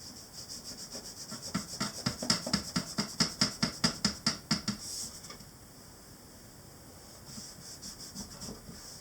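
A kneaded eraser rubs over charcoal on paper in a regular burst of about a dozen quick back-and-forth strokes, close and clear, then a quiet stretch with a few faint rubs.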